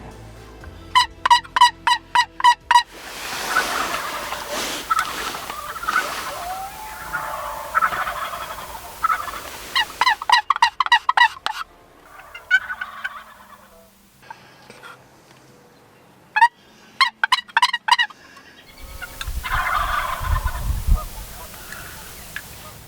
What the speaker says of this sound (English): regardless of whether these birds are toms or jakes, they start gobbling